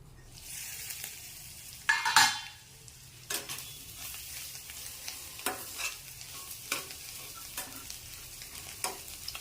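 Egg garlic masala is stirred in a pan, giving a low frying sizzle broken by a loud scraping burst and then repeated short spatula scrapes at irregular intervals, with no voices.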